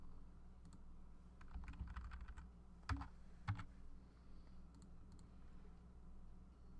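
Soft clatter of computer keyboard keys typing codes, a quick burst of keystrokes followed by a couple of sharper isolated taps, faint and close with no talk.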